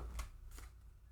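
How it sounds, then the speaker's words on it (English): Tarot cards shuffled by hand in two quick riffling bursts, close and fairly quiet over a low background hum, with no talking. "I'm going to shuffle again."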